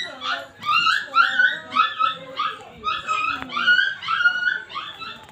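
A dog yips and whimpers in a rapid, rhythmic series of high, whining barks close by, repeated about a dozen times without pause.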